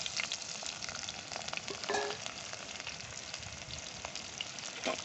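Small onions sautéing in a clay pot for egg curry, a dense continuous sizzle of frying with occasional faint scrapes of stirring, close and steady throughout.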